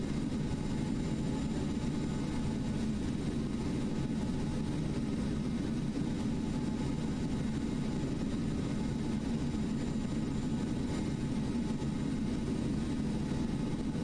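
A flight simulator aircraft engine drones in flight, a steady, unbroken low rumble and hum that holds at an even level throughout with no talking.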